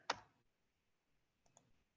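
Computer keyboard keys pressed while typing a subtraction formula into a spreadsheet: one sharp, close click, then a quiet pause and two softer clicks, faint and isolated with no talk.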